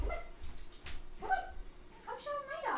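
A pet dog gives a few short, high yips and whimpering barks indoors, spread across the moment, with quieter rustling between them.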